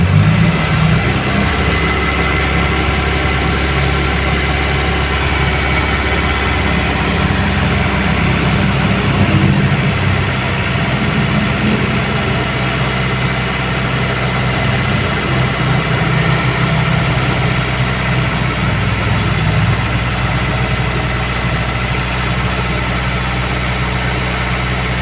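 A Toyota Corolla big-body engine that has overheated, with its cooling fan not turning on, runs in a loud, steady, low drone for the whole stretch, close by and with no talking.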